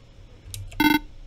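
A short electronic beep-bop character voice from the video game Friday Night Funkin', a quick chirp followed by a loud tonal bleep, close and clear over faint background noise.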